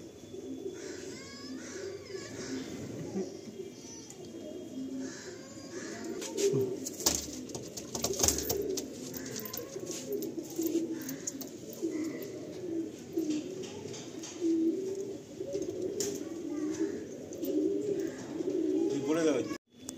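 Andhra Fulsira pigeons coo steadily in a loft, layered murmuring calls running throughout at close range, with people talking over them now and then.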